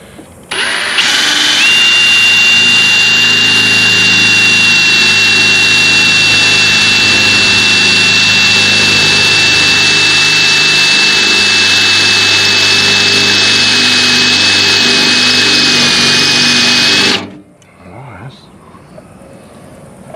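A power drill drilling holes while installing a Rock Block on a John Deere runs continuously at high speed for about seventeen seconds with a steady whine, then cuts off abruptly, leaving quiet room noise.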